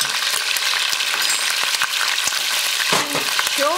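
Minced ginger and garlic fry in a hot pan, a steady close crackling sizzle with scattered pops, ending with a few brief scraping stirs.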